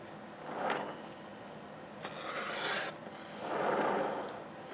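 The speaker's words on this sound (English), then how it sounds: "And I'm going to start cutting this one." A rotary cutter slices fabric along a skid-free quilting ruler in three soft rasping strokes, each rising and fading over about a second, close and fairly quiet.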